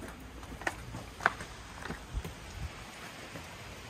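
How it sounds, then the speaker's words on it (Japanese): Steady rain falls outdoors after lunch at a meat restaurant on Awaji Island, a continuous soft hiss with scattered drops and faint taps, nearby and moderately quiet, with no talk over it. "うわ、雨や。"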